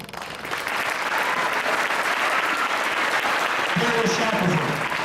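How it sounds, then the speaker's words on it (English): Audience applause at a school assembly, a dense steady wash of clapping from a large crowd that starts quickly and holds, with a voice speaking briefly near the end. "stand up and give them a round of applause"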